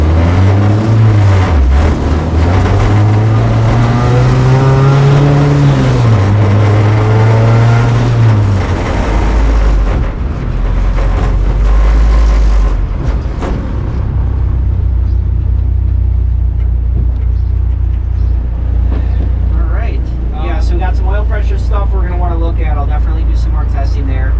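An Ecotec-swapped Mazda Miata on its first test drive, its engine droning and rising in pitch through the gears, then settling into a steady low rumble, with someone talking over it throughout.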